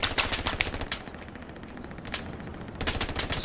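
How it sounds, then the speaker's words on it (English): Gunfire in the World War II shooter game Hell Let Loose, rapid bursts of automatic weapon fire with shots cracking in quick succession, loud at the start and end and easing in between, no speech. "Someone's shooting over here on the left."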